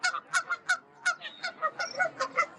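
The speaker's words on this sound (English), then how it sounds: "Oh, we got some agitated geese here" Agitated geese near a waterfront honk repeatedly in quick, uneven bursts, about a dozen loud nasal calls close by and overlapping in a rough rhythm.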